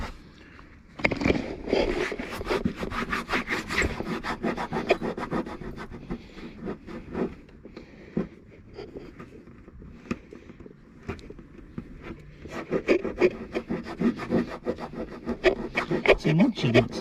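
A rubber eraser wheel grinds at a car badge on a tailgate, making rough, uneven rubbing and scraping bursts that come and go in close-up, with brief pauses between passes.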